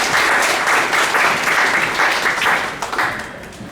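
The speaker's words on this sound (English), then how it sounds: "So let's give them a round of applause." An audience at a business forum in Norway applauds steadily, dense clapping sustained throughout and tapering off toward the end.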